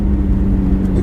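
A Lamborghini Novitec Torado accelerates, its engine putting out a loud, steady, deep drone with a strong low hum, heard continuously from inside the car.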